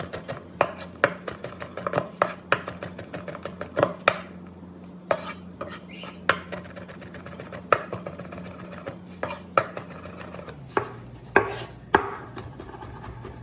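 A knife chops fresh garlic on a board with sharp, quick knocks that come in uneven bursts over a low hum, close and clear with no talking.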